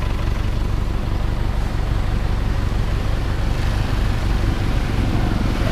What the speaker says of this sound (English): Day or night, there's just traffic, there's just noise, there's people.